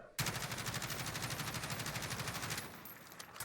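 Sustained automatic fire from a machine gun fitted with a bipod underbarrel in Warzone, a rapid unbroken burst of shots lasting about two and a half seconds, loud and close, then cutting off into quieter game ambience.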